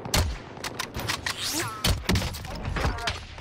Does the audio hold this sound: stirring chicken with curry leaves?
no